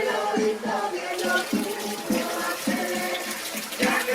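Water trickles and gurgles steadily from a spring seeping through a crevice in the rock at the back of a stone nook, a continuous close burble with no voices.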